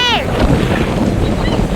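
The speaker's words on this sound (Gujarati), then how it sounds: "ઓ મોટા મોટા મોજા આવે છે." Large sea waves wash onto a beach shore in a loud, continuous surge under gusty wind, with a brief high whistle-like sound at the start.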